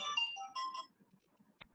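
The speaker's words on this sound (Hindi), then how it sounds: "मेरे पास फोन आ रहा है।" A short electronic melody rings out from a phone, a few bright chiming notes, then falls quiet except for a single click.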